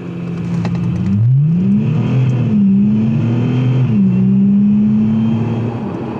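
A remapped Audi A5 3.0 TDI quattro diesel launching hard from a standstill to 60 in sport mode with traction control off: loud, close engine roar climbing through the revs with a brief dip at a gear shift, then pulling steadily on.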